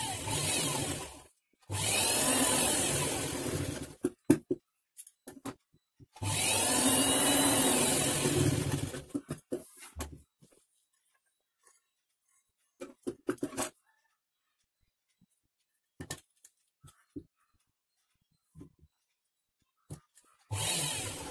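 A sewing machine stitches darts on a lined blouse in a few loud, steady whirring runs of a few seconds each, then falls quiet apart from scattered small handling clicks and taps.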